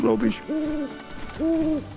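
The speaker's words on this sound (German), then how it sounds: "Und das ist eine Eule." An owl in the video game Final Fantasy VII Rebirth gives two clear, drawn-out hoots close by, each a steady tonal call, with a person briefly talking at the start.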